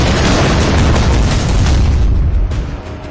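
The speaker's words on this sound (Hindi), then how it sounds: "ये तासीर है अमेरिकी बंकर बस्टर बम की, जो जमीन से 20 फीट नीचे सब कुछ तबाह कर देता है।" A US bunker buster bomb explodes in a deep, loud, sustained boom with a heavy low-end rumble that rolls on for about three seconds before easing slightly, with no voices.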